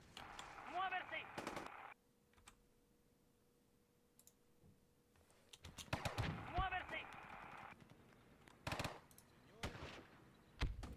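Bursts of machine-gun and rifle fire from a World War II battle in Theatre of War 2, in clusters of sharp cracks separated by quieter stretches, with a voice talking over parts of it.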